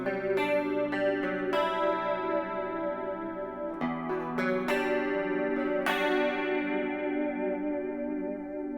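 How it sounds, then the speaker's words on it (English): Electric guitar with combined humbucker pickups through a Line 6 Helix, notes and chords ringing out with a warm, full tone, strummed and sustained across several phrases with no talking. "Now let's hear it with the humbuckers just, you know, combined first."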